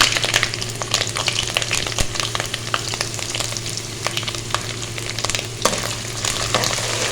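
Finely chopped ginger frying in a pan with oil, a loud, close, continuous sizzle with scattered crackles and pops, plus a steady low hum underneath and no talking.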